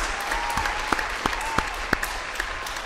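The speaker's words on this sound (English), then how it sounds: "A round of applause for your mom." An audience gives a round of applause, steady dense clapping throughout with several sharper individual claps standing out nearby.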